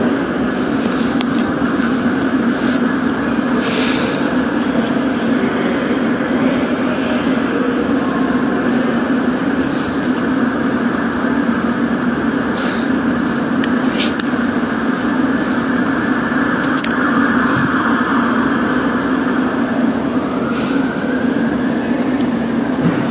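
A London Underground District line train departs Fulham Broadway for Wimbledon at night, its loud, steady rumble and motor drone holding throughout, with brief squeals and clanks and a rising tone near the end.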